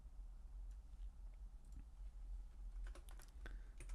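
Quiet typing on a computer keyboard, scattered soft key clicks that bunch into a quick burst near the end, heard alone against low background hum.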